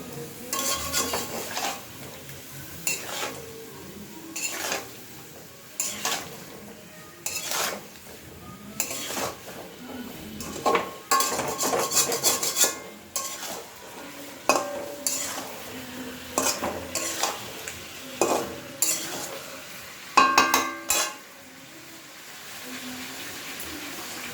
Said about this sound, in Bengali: সেখানে একটু জল দিয়ে এটাকে নাড়াচাড়া করে নিতে হচ্ছে